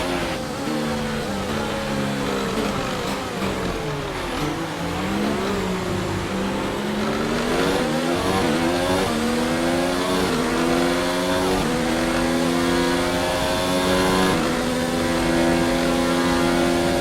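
An F1 2019 race car engine in a video game, with a worn engine, holds a loud, continuous high-pitched whine whose pitch rises and falls with the throttle and gear changes, running unbroken throughout.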